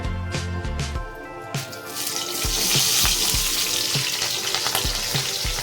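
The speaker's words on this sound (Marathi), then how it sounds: "गॅस थोडा हायस्ट ठेवायचा आहे जास्त हे नाही करायचं आहे जेणेकरून कोटिंग त्याची कडक होईल आणि भाजी फ्राय होईल" Mushrooms and capsicum frying over high heat for a dhaba-style mushroom masala, a steady close sizzle with occasional utensil knocks and clinks against the pan, with no talking.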